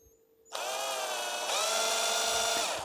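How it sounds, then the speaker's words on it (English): A power drill whirs up suddenly and grinds steadily at high speed through the plastic casing of a massage chair power adapter, pitch and load shifting slightly as it bores in, close and loud. "So I've managed to get a drill bit right through it."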